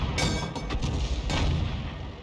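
A tank cannon in a tank video game fires: a few heavy booming blasts in quick succession, each with a rumbling tail that carries through.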